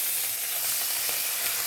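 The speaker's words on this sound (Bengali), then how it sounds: "তো মাছগুলো এবার আমি ভেজে নেব, সব মশলা সমেত ভেজে নেব।" Fish pieces coated in spices fry in oil, producing a dense, continuous sizzle that stays loud and close from start to finish.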